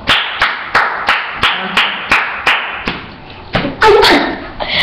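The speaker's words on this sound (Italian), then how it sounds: "Un applauso." Sharp, separate hand claps ring out one after another in a fairly even rhythm, about a dozen in all, loud and close, welcoming a 12-year-old boy named Simone.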